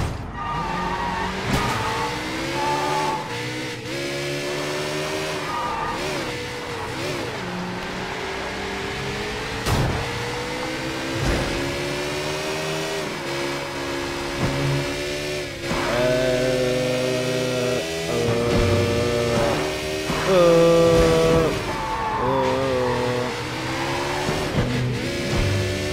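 Video game car driving hard with a loud, continuous revving engine whose pitch climbs and drops, punctuated by repeated tire squeals and skids, close and steady for the full stretch with no talk.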